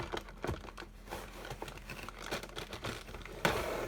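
A bag taped inside the cardboard box of an Estes Saturn V model rocket kit is pulled free, giving a dense run of crinkling plastic and rustling cardboard with a sharper tug near the end, close and continuous with no talk.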